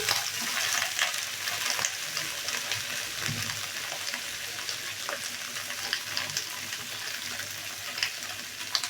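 Okra and onion fry in a pan while being stirred, giving a loud, steady sizzle with scraping stir strokes scattered through it. No voices are heard.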